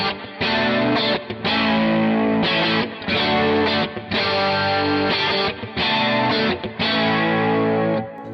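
Electric guitar played through a vintage Boss CE-2 chorus pedal with drive, a dense, loud, continuously strummed and sustained tone with brief gaps between chords, no voices.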